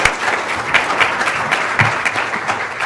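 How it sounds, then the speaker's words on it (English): A symposium audience applauds a final panel on 3D printing and tort liability with steady, dense clapping that stays close and even throughout, without voices. "Let's just please give one more applause to our final panel."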